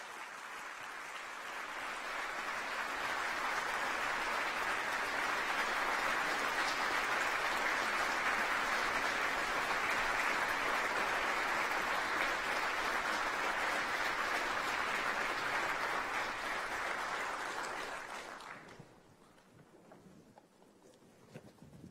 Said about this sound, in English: could you please give them a very warm round of applause as well?